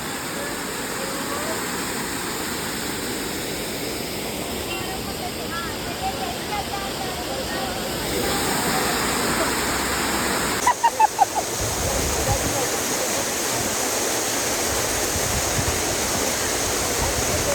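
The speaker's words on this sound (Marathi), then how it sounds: "हे धबधबा" A waterfall near Pune roars as a steady, broadband rush of falling water throughout, growing louder and fuller about halfway through, with a brief clatter of small knocks near the end.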